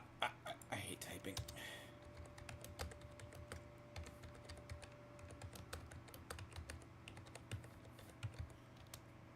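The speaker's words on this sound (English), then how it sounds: "I hate typing." Typing on a computer keyboard, rapid irregular clicks and taps throughout at close range, with faint background hum and brief soft vocal sounds.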